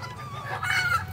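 Big roosters at a village market give short clucks and throaty calls, close and fairly steady over a low background hum.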